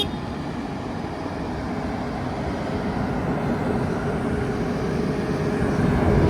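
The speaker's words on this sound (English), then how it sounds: "So this is a Fendt tractor, an 828. It's about 280 horsepower." A Fendt 828 tractor of about 280 horsepower at an agricultural show, its engine a steady, loud low rumble that builds slightly, with no talk over it.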